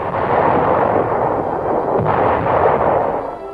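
Artillery fire on German positions at Konzen in WWII battle footage, a dense, heavy continuous rumble of blasts, loud and muffled with no clear gaps.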